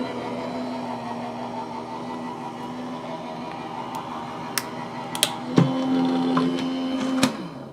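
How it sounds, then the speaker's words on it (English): A die cutting machine running through a stencil, its steady mechanical hum rising near the end of the clip and broken by a few sharp clicks and taps. "Run this through my die cutting machine."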